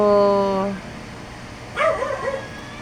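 A grown puppy, once found and bought for 5 pesos, gives a short bark-like whine followed after a pause by a cluster of yips and whimpers, close and fairly loud.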